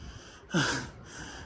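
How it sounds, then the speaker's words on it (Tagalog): After a climb uphill at a windy park viewpoint, a person lets out one heavy, breathy gasp close to the microphone, with faint wind noise before and after. "Ay, hinihingal na ako."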